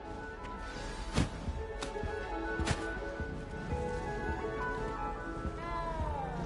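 A cat meows inside a video game, with faint, intermittent mewing over a steady background of game music and ambient sound; no speech in between.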